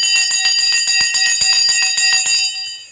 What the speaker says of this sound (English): The bell has just gone.